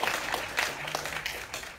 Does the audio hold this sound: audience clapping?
yes